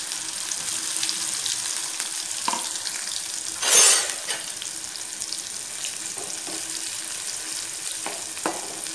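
Part-boiled bitter gourd pieces dropped a little at a time into hot oil, sizzling loudly and steadily throughout, with a brief louder burst of frying near the middle.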